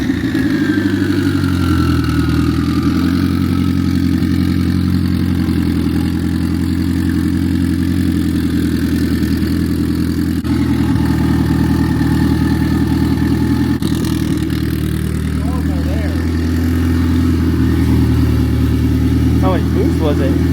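A turbocharged Honda Accord engine idling loudly and steadily, a dense low rumble with a rising whine early on and brief clattering bursts later, with someone talking over it.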